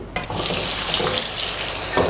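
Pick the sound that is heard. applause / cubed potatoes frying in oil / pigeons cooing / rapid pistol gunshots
cubed potatoes frying in oil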